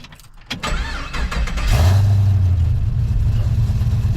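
A 1967 Camaro with an LS engine cranks briefly, then catches and settles into a steady, loud, close idle with a deep low rumble.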